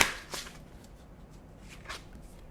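Playing cards riffled in a deck during a tarot reading, a quick crisp burst near the start and a second softer riffle later, close by over a quiet room.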